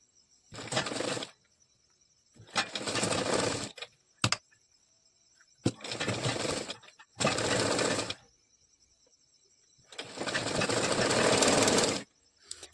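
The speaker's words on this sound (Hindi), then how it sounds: "इसको भी इस तरह से पहले चेक कर लेना है और फिर सिलाई चलानी है।" Sewing machine stitching a puff princess-cut blouse, running in several separate bursts of steady rapid whirring chatter with pauses between, close and clear with no talk.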